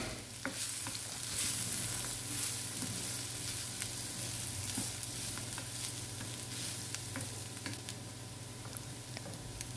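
Purple cabbage poriyal with grated coconut is stirred in a hot pan, giving a soft continuous sizzle broken by light scraping and tapping of the spoon, fairly quiet and close, with no talking.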